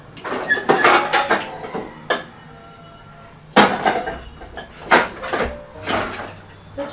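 Plates taken out of a kitchen cupboard: a series of close clattering knocks and door bumps in irregular bursts, with quieter gaps between them.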